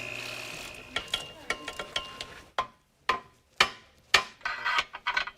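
A ratchet wrench removing parts from a Pontiac Trans Am to take out its clutch, sharp clicking ratchet strokes in uneven bursts, close and fairly loud, with short pauses between pulls.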